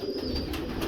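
A pigeon coos once in a low, soft, rolling tone, close and clear against faint background noise.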